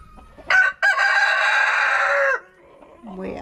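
A rooster crows loudly nearby in one long, drawn-out call after a brief opening note, followed by softer clucking from farm fowl.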